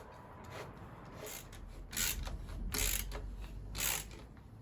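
A ratchet tightens a nylock nut on a full Black Widow exhaust system being fitted to a Honda CRF 300 L motorcycle, giving several quick bursts of clicking at close range over low background noise, with no talk.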